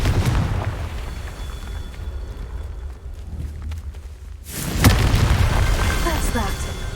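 Confringo fire spell explosion in the video game Hogwarts Legacy, a deep booming blast that erupts suddenly after a quieter stretch, with rumbling game combat sound and a spoken voice around it.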